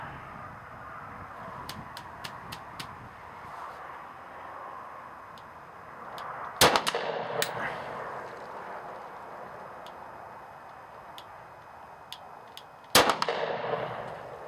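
A 1938 Luger pistol fires two sharp, loud outdoor shots several seconds apart, each ringing briefly, with faint clicks and quiet ambient noise between them.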